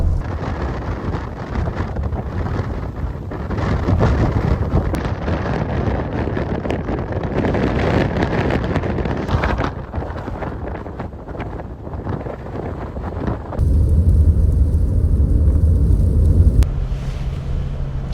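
Strong wind buffets and roars against a vehicle driving over a desert mountain pass west of Panamint Springs, California, a continuous loud rush with deep low rumble and gusty swells, no speech.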